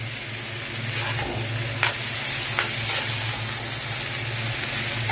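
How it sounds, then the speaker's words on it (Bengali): Potatoes frying in hot oil, producing a steady dense sizzle throughout with a few faint clinks of stirring, no voices. "তেলটা মচমচে একটা ভাজা হবে।"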